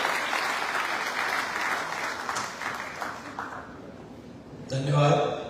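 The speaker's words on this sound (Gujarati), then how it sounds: "જોરદાર તાળી બની." Loud applause from a crowd at a Navratri celebration in Vadodara, a sustained clatter of clapping that fades slightly before a brief swell of sound near the end.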